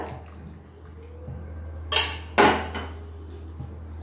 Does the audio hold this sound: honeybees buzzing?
no